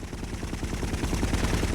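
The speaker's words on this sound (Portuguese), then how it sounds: "Vamos ver se aprende a desviar do tiro." Rapid bursts of automatic gunfire from the PS2 game GTA Vice City Stories rattle in quick repeated volleys, moderately loud and continuous, with no voices.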